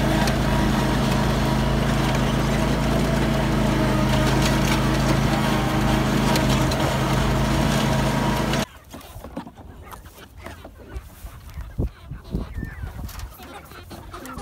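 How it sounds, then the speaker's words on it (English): A riding lawnmower engine running loud and steady for about nine seconds before cutting off abruptly, leaving quieter outdoor sounds of knocks and chickens clucking. "Now I hop on the lawnmower and pull up to the chicken tractor."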